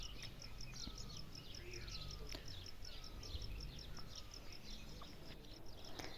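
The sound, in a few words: birds chirping in the mountains in the early morning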